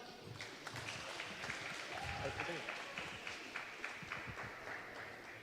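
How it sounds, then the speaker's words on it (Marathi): An audience at a school annual day celebration claps steadily, with the applause mixed under voices talking nearby. "सगळ्यांनी टाळ्या वाजवा."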